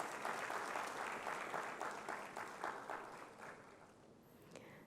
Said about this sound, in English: Your clap lasted longer than the others.